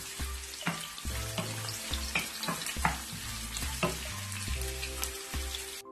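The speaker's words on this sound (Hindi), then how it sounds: "जब ऑयल गर्म हो जाएगा तो इसमें मैं एक अनियन डालूंगी स्लाइस में कटे हुए। इसको मैं गोल्डन फ्राई करूंगी।" Sliced onion frying in hot oil for pulao, a steady sizzling crackle with repeated stirring clinks and scrapes throughout, close and fairly loud, no talking.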